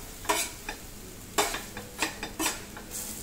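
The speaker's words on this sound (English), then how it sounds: "mash it with the pav bhaji masher or a potato masher" Masala cooks on a tawa for Mumbai street-food anda ghotala while a pav bhaji masher repeatedly mashes it, giving sharp irregular metallic knocks and scrapes over a soft low sizzle.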